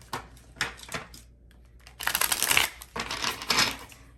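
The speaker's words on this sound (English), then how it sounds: "Give it one more good shuffle." Tarot cards are shuffled by hand in quick, crisp riffling bursts. They are close and fairly loud, with brief pauses between the shuffles and no voice over them.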